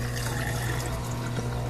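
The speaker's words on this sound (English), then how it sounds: "It's water flow right into the garbage disposal" Water draining from a Kenmore dishwasher into a garbage disposal, a steady rushing flow with a low continuous hum, no voices.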